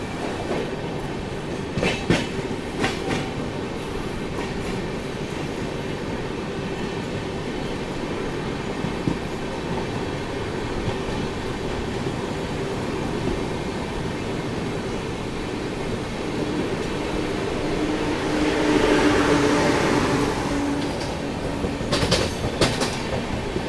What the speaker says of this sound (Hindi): अब स्पीड अप हो रही है अपनी ट्रेन